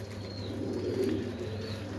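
Young pigeons in a loft coo softly, a couple of low rolling calls over a steady background hum, with a faint chirp or two above.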